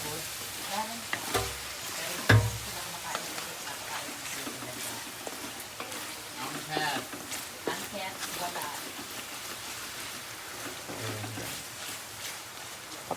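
Food is stirred and sizzling in a cooking pan in a busy kitchen among staff, with scraping stirs and a steady fry hiss running throughout, and people talking intermittently over it.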